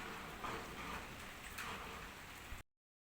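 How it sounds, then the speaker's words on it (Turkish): Steady rain falls outside a kitchen, a soft continuous patter and hiss heard faintly and evenly for a few seconds before cutting off. "Hem yağmur yağıyor."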